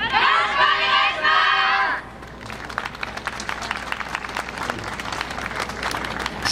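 Crowd applause at a yosakoi dance performance by the Kansai University student team at Kyoto Sakura Yosakoi 2022, following a loud sustained voice; dense, steady clapping fills the rest of the clip.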